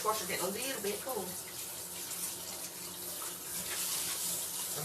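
A kitchen sink tap runs during dishwashing, a steady splashing stream with clinks and shifting water noise, fairly close and moderately loud.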